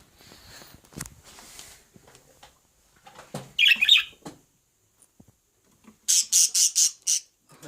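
A budgerigar in a cage gives a few sharp squawks, then a quick burst of five or six harsh calls close by, with rustling between.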